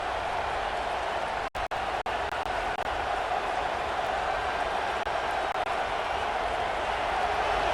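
A college football stadium crowd at a Missouri Tigers vs. South Carolina Gamecocks game gives off a steady, dense roar that holds at an even level throughout, with a few brief dropouts early on.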